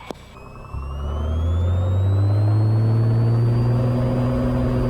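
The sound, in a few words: Cessna 182 engine revving during takeoff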